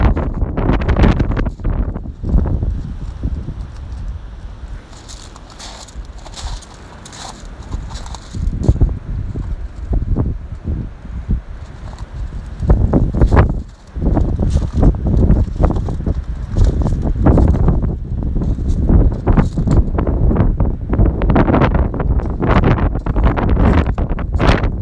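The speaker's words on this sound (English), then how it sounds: "just because it's so windy" Loud wind buffets the microphone throughout, rumbling gusts that surge and drop, with a brief lull midway before the blustering picks back up.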